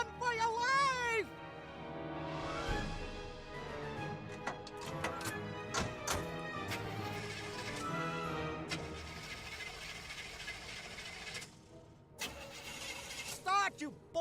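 In a video game, a car engine cranks and fails to start over repeated attempts, mixed with game music, sound effects and character voices.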